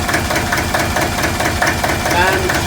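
A boat engine idling just after starting, a steady low rhythmic chugging with a slight knock, close and continuous, with someone talking over it.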